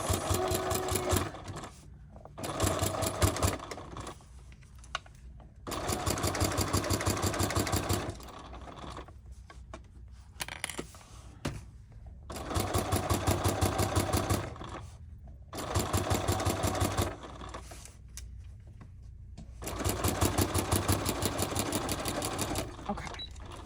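A sewing machine bastes down a bag pocket in a series of short runs, each burst of rapid stitching followed by a pause for repositioning, close and moderately loud with faint handling noise between.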